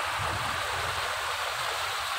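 Clean mountain stream water from Gunung Jatiluwih flows in a steady, unbroken rush with a soft hiss. It is fairly close and continuous, with no voices.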